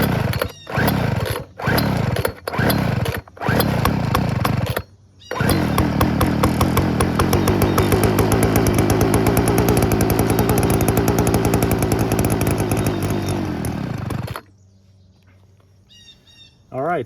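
A late-1990s Craftsman 32cc two-stroke leaf blower/vac sputters through several short revving bursts, then runs loud and steady at high, buzzing revs for about ten seconds before cutting out.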